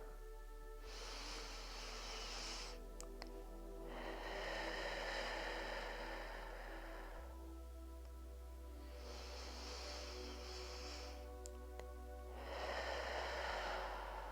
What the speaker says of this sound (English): So deep inhale and long exhale.